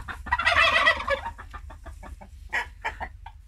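A rooster lets out a loud, close crow followed by a run of short clucks and gobbling calls in a farmyard, with no talk over it.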